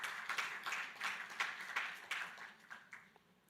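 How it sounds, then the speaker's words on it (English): An audience at the opening ceremony of a business summit gives a round of applause, moderate clapping that pulses and slowly fades as a guest walks on stage. "Let's give him a round of applause as he comes."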